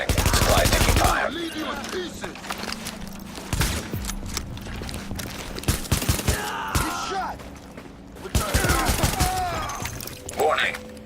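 Gunfire in Tom Clancy's The Division: loud bursts of automatic fire and sharp shots come in clusters, with short gaps and impact clatter between them and a synthetic warning voice speaking over parts of it.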